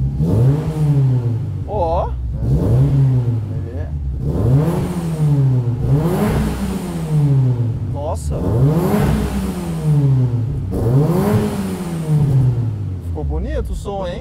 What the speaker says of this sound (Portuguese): Dá uma aceleradinha aqui.